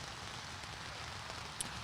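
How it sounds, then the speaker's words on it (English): Steady rain falls throughout at an outdoor amateur baseball game, the Ohio Cup, a dense even hiss of drops on surfaces with a single brief tick near the end and no talk. "Hoping that this rain comes to an end"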